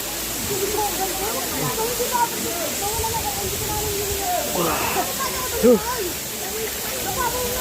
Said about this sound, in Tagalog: Nandito kami ngayon guys sa Batlag Falls.